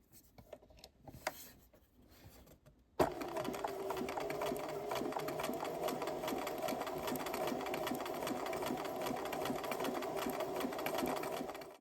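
A domestic sewing machine runs a zig zag stitch at width 5, starting abruptly after a few soft handling noises and then whirring steadily with a fast, even mechanical rhythm.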